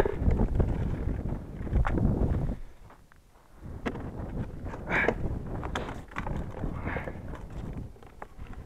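Gusty wind on the ice of the Pechora River rushes and buffets the microphone in uneven waves, easing briefly before picking up again, with some faint rustling underneath.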